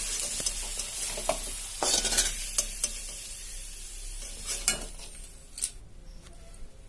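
Potatoes fry in a pan with a constant sizzle while a utensil stirs and scrapes them in repeated knocks and clinks, up close, with no voices.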